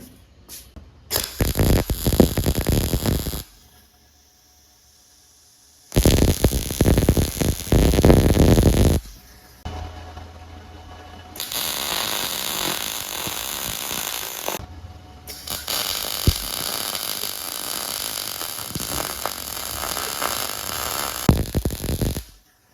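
An arc welder striking on metal while fusing a steel bracket: several bursts of loud, harsh crackling buzz, each lasting a few seconds, separated by short silences and a steadier quieter stretch, with no voices.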